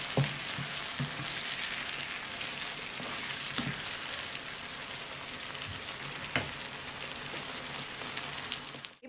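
Okra sizzles steadily in a pan with chilli, salt and masala, a dense continuous frying hiss with a few soft stirring knocks, close and fairly loud throughout with no talking.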